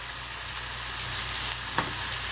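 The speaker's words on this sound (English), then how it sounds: "So now just keep sauteing it" Onions, curry leaves and mustard seeds sautéing for poha make a dense, continuous sizzle close up, with a brief stirring scrape near the end.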